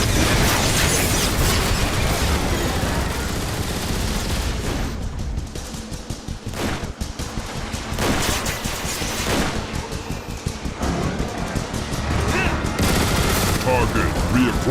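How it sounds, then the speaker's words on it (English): Constant heavy gunfire and booming explosions from the Transformers: War for Cybertron video game, turret fire wearing down Omega Supreme, forming a dense, loud, continuous barrage with bursts throughout. "Keep firing, Decepticons! The turrets are wearing down Omega Supreme's defenses"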